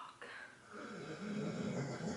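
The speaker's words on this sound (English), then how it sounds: "That's my dog snoring." A dog snoring nearby, slow rough breaths rumbling in and out over a faint steady background hum.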